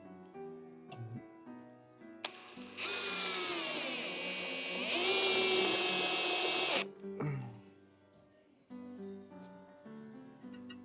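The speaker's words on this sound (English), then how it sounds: "this is the trusty Parkside tool" A Parkside power drill whirs at a garden wooden house build. One sustained burst of about four seconds rises in pitch partway through, set against quieter clicks and background noise before and after.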